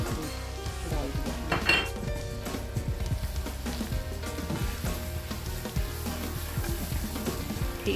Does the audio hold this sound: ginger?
yes